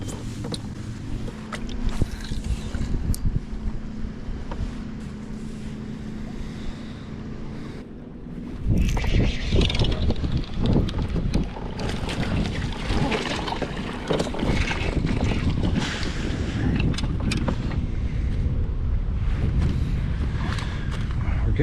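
Wind buffeting a microphone on an open lake from a fishing kayak, a steady low rumble with gusts that grow louder and rougher partway through, mixed with water lapping against the hull.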